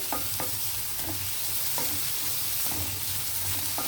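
Onions for a ridge gourd prawn curry fry in a pan with a constant hiss, broken by regular scraping stirs of a spoon every half second or so.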